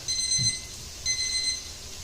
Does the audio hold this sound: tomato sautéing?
no